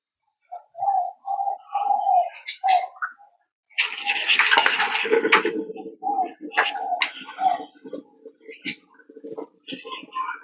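A metal Bialetti moka pot lid is opened on the stove with a brief burst of clinking, clattering metal in the middle, surrounded by a voice talking before and after.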